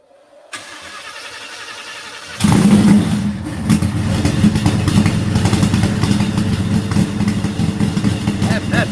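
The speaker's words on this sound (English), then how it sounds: "Senior's gonna start the car" A supercharged race car engine cranks and catches, then settles into a loud, rough, lumpy idle with steady revving in a shop, as people talk nearby.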